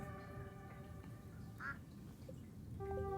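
Ducks quack in Stardew Valley, a few short nasal calls over a soft, steady game soundscape with sustained tones.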